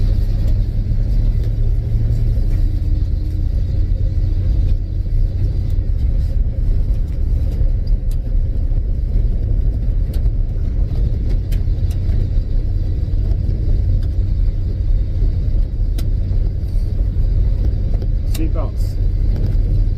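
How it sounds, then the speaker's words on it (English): A car engine idles after a stuck part has broken loose, giving a steady, loud, low rumble that holds constant throughout the clip. "We're idling nice,"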